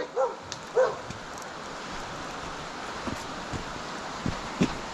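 A big puppy gives a few short barks and yips early on, then quieter sounds, over steady outdoor rustle and wind in a park near a bridge.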